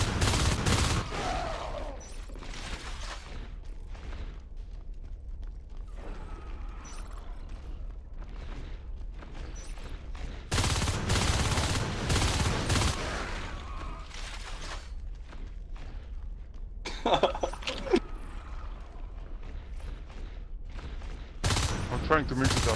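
Rapid bursts of video game gunfire from a marine training session, loud repeated volleys with explosive booms between quieter stretches, and voices talking now and then.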